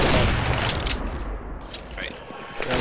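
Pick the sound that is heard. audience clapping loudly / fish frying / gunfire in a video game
gunfire in a video game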